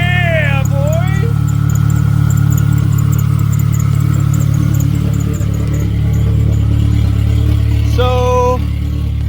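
A Nissan 240SX S14 drift car with an SR20DET engine, just revived, idles steadily and loudly up close with a deep even rumble, while high squealing tones come and go and people talk over it.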